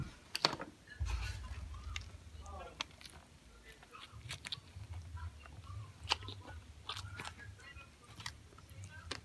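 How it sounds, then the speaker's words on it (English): Close crunching bites and chewing of a Popeyes fried chicken sandwich, a few sharp crackly bursts with quieter munching between them, and no talking. "You gotta hear that crunch."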